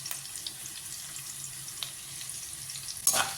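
Onion and finely chopped ginger sautéing in coconut oil for semiya uppumavu, a soft, steady low sizzle with one brief louder hiss of stirring at the end.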